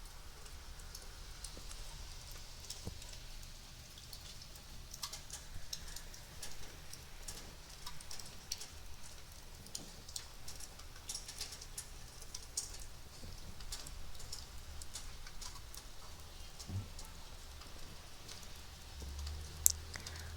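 Faint, irregular rain drips leak through a ceiling, soft scattered ticks and patters over a quiet background with one sharper drop near the end.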